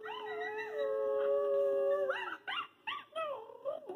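A coyote gives a long, wavering howl that breaks into several short yips and yelps, close and clear with no talking.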